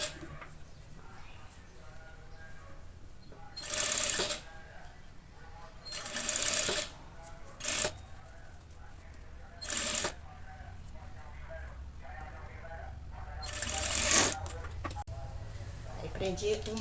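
A sewing machine stitches a ruffle onto panties in short separate bursts of whirring, several brief runs spread between pauses, with someone speaking quietly in between.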